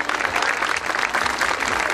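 Dense, steady applause from a crowd at a school centenary ceremony, honoring an invited guest, loud and continuous throughout.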